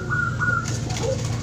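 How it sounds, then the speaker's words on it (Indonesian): Captive-bred Bangkok zebra dove (perkutut) cooing in short soft phrases, close and clear over a steady low background hum. "Kalau ini perkutut bangkok ternakan."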